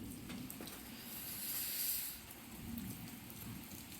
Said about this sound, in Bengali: এখানে উপর থেকে আকাশ থেকে বৃষ্টি দিচ্ছে আর এই পৃথিবী খাচ্ছে